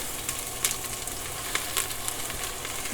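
Onions fry in hot oil, a bright steady sizzle close by with a few brief crackles and spatters, no talking.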